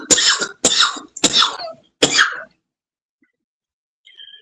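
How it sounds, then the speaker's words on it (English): Four harsh, forceful coughs in quick succession, close and loud, then silence with a faint tone at the end. "This cough that you guys hear"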